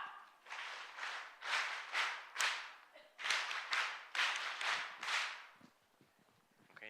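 An audience at a federation launch event does a rhythmic group clap, about nine surging swells of many hands clapping in steady waves, fairly faint and distant, before it fades out.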